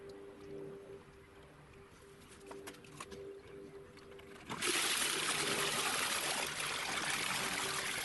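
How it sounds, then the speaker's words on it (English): Dirty water pouring and overflowing from a bucket, a soft trickle that suddenly swells into a loud, steady rushing splash, close by with no voices. "Oops. no. Bucket overflowed."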